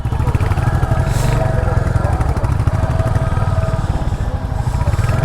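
A Royal Enfield Classic 350cc motorcycle engine runs loud and close with a steady thumping idle and throbbing exhaust pulse, and a voice speaks faintly beneath it.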